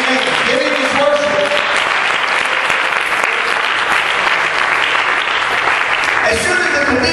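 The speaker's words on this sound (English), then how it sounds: "Come on, somebody clap." A church congregation claps during a sermon, dense and loud applause sustained the whole time, with some voices mixed in beneath the clapping.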